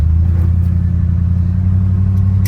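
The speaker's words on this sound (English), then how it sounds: "the motor sounds pretty decent" An old 1981 Ford F-150 pickup engine idles close by with a low, steady rumble and a faint rhythmic chug, no voices over it.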